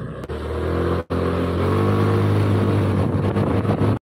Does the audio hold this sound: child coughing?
no